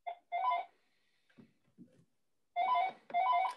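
A telephone rings in short electronic bursts, two clusters of ringing pulses separated by a quiet gap with faint low thumps, sounding close and clear in a quiet room.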